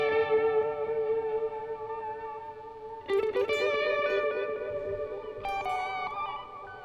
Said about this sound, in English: it's a delay, a multi-delay that jumps an octave in the trails with some vibrato built